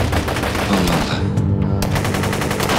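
Rapid gunshots ring out in a steady automatic burst, loud and close, with a short break midway before the firing resumes.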